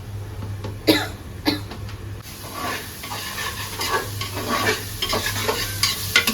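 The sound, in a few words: prawns being stir-fried in a pan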